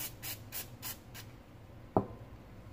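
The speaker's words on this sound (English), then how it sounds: "we're just going to give it a quick spray" Several short hissing bursts of cleaner sprayed onto a Zama carburetor in quick succession, fairly close, followed by a brief sharp click or knock, with quiet background otherwise.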